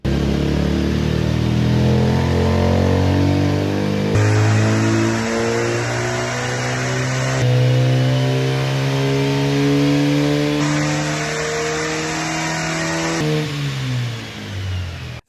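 A Ford Escort engine revs hard on a dynamometer, its note climbing steadily through the gears in long loud pulls with brief shifts between them, then dropping away at the end of the run.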